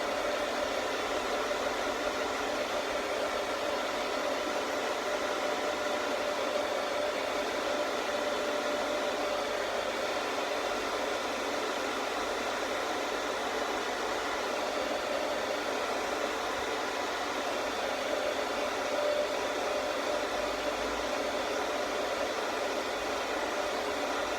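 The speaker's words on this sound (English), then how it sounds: "Such a necessity, a hairdryer in this scenario." Loud, unbroken whoosh of a hair dryer blowing continuously at a steady level while working on moulded muscle arms.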